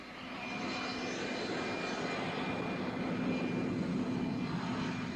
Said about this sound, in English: That is a jet aircraft engine being used to help dry out this soggy quarter mile.